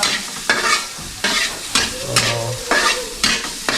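Dinuguan is stirred and fried in a pan over medium heat without added oil, making rhythmic scraping strokes about every half second over a continuous close sizzle, with no voices.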